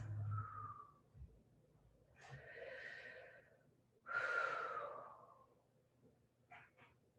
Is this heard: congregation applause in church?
no